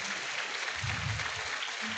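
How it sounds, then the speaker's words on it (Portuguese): A church congregation applauds during a worship service, a steady patter of clapping heard at moderate distance for the whole moment. "Você pode aplaudir o Senhor por isso"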